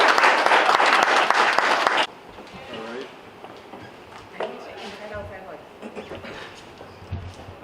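Audience at a real estate school graduation ceremony in Guyana applauding a graduate, a loud burst of clapping for about two seconds that cuts off abruptly, followed by quieter room sounds and someone talking.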